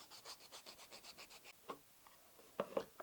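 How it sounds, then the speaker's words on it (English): Sandpaper rubs back and forth over the cut edges of a leather knife sheath in a steady run of about a dozen quick, soft rasping strokes, then a pause and a few louder scrapes or handling bumps near the end. "give the leather a quick sand with sandpaper to remove all the small sharp edges created from the cutting"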